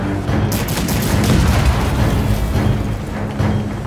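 Cannon fire in a naval battle between a corsair ship and Chaos Raiders, heard as a dense rumbling barrage of booms and blasts that continues loudly throughout with no pause.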